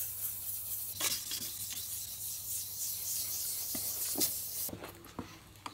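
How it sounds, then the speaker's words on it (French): Wet sanding of an opaque, cloudy headlight lens on a BMW 5 Series E60/E61 525d: a steady, close scratchy rubbing with a few sharper strokes, continuous and without talk. "La première chose à faire pour un phare opaque comme celui-là, c'est le poncer à l'eau."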